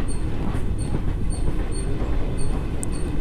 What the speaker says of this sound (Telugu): బాపట్ల నుంచి డిపార్చర్ అవుతుంది పినాకిని ఎక్స్ప్రెస్.